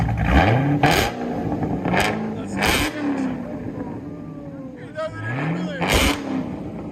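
Car engine revving hard several times, nearby and loud, with rising and falling whines between sharp bursts, while people talk over it.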